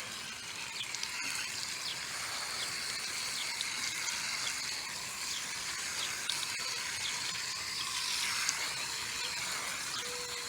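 Water runs steadily over a houseplant's leaves during a rinse, a soft, continuous hissing splash that stays fairly faint and unbroken, with no talking.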